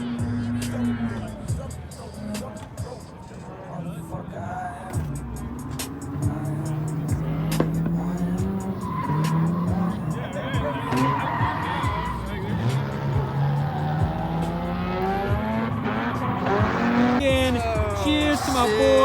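SR20-powered drift car doing a burnout at a Hoonigan Burnyard Bash event, engine bouncing near the rev limiter with long squealing tires and rising, falling revs, loud and continuous throughout with some crowd voices underneath.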